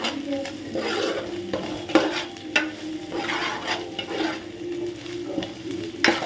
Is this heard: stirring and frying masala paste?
yes